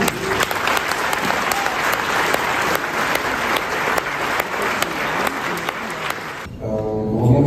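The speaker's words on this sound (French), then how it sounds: "tonnerre d'applaudissements pour Florent Maboul." Loud, thunderous applause from a crowd at an awards ceremony in the salons of the Quai d'Orsay, dense rapid clapping for over six seconds before it cuts abruptly, leaving a brief tonal sound.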